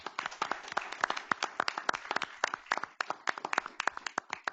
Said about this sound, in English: Let's clap for all those folks.